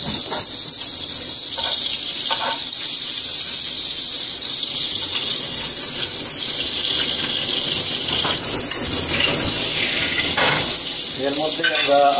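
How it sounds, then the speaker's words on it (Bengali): Oil sizzles loudly and steadily in a pan as chopped onions go in for a beef biriyani gravy, with occasional stirring scrapes and utensil clinks, no talk. "আমাদের পেঁয়াজ কুচি দিয়ে দিব।"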